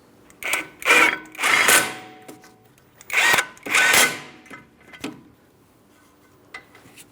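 Bolts on a rear brake caliper bracket of a Ford Transit 250 van being run in by a power tool: several short, loud whirring bursts in two clusters, then a few quieter clicks, with no talking.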